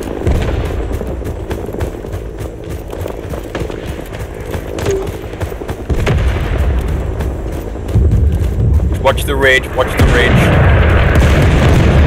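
An incoming artillery fire support barrage in the Vietnam War shooter Rising Storm 2: Vietnam, deep booms and rumbling blasts building over twelve seconds under battlefield noise, with a brief spoken warning.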